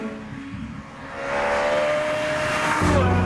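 A Ferrari F430 Scuderia supercar drives past, its engine note swelling and climbing in pitch as it accelerates, loud and close with a sharp roar toward the end.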